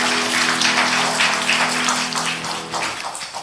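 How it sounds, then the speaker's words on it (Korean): Church congregation applauding during a Sunday morning worship service, a dense, steady wash of clapping over a sustained organ or keyboard chord that fades near the end. "우리 하나님께 영광의 박수 올립니다"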